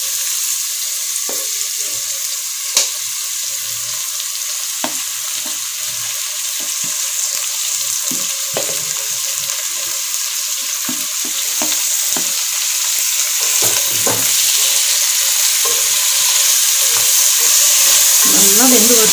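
Onions and tomato sauté in a pan for egg biryani, a steady loud sizzle with frequent stirring scrapes and taps running throughout, no voices.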